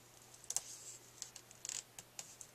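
Card paper is trimmed for a handmade embossed banner card, producing quiet, close, crisp snips and short cutting clicks scattered irregularly over a faint background hum, with no talking.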